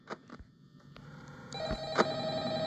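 A phone rings in the Five Nights at Freddy's video game during the first night, a steady electronic tone that starts partway through and carries on loud and sustained over faint background game noise.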